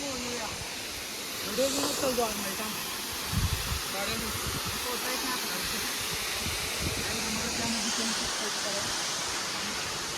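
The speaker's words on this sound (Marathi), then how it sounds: "असं पडते पाणी धड धड फुल प्रेशरनं" Water pours down under full pressure at Marleshwar waterfall in the Konkan, making a steady broadband roar close by, with people talking over it.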